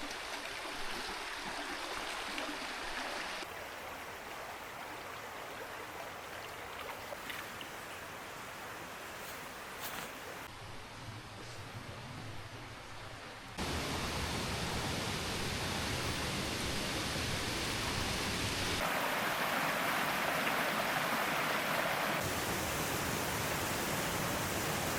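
Rushing water from the Moshan waterfall and its stream on the Sandiaoling trail, a steady broadband roar that swells louder and closer midway, with no voices.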